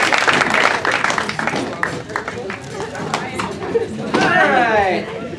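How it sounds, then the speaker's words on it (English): Audience at a Palentine's Day comedy improv show claps steadily, a dense wash of many hands with crowd murmur mixed in, fairly loud and continuous throughout. "So if you guys would just clap a lot."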